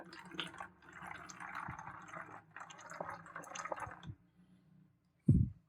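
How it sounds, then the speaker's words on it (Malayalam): Plain water trickles and gurgles into a bottle for several seconds, pauses, then a brief louder splash or thud at the end. "ഞാൻ ഇതിനകത്ത് കുറച്ച് വെള്ളം നിറയ്ക്കുകയാണ്"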